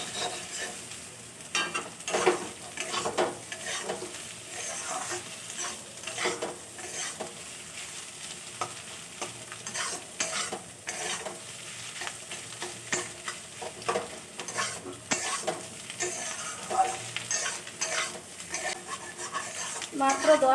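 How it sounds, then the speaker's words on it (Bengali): Egg is stirred and scrambled into crumbly bits while frying in a pan, producing a continuous soft sizzle broken by frequent scraping and tapping of a spatula against the pan. "ডিম দিয়ে এভাবে নাড়তে থাকবো। ডিমটা তাহলে ঝুরি ভাজার মতো"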